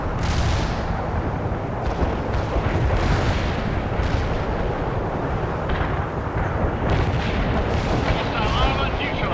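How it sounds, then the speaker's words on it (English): Artillery barrage in the World in Conflict strategy game, a continuous loud rumble of booming impacts and distant blasts rolling on without letup, with faint voice chatter mixed in. "The barrage is on the way."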